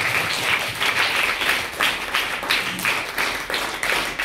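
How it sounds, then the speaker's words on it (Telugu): An audience claps to welcome a guest at a school event on Navodaya exam preparation. The applause is loud and sustained, with pulsing waves of clapping throughout. "అందరూ క్లాప్స్ కొట్టి ఆహ్వానిద్దాం"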